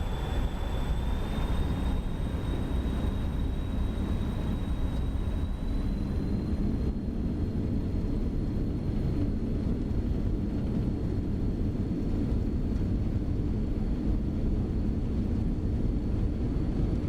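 BAe 146 jet engines spool up to takeoff power in X-Plane 12, a steady loud roar with a rising high whine that holds throughout, no voices.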